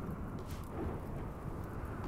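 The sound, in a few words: thunderstorm thunder in RimWorld video game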